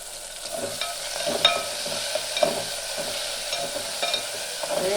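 Curry leaves drop into hot oil over cooked tomato, onion and green chili for a Telugu broad-bean and raw mango pulusu, crackling with sharp pops over a steady sizzle, with occasional stirring scrapes.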